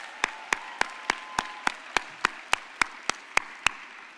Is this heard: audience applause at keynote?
yes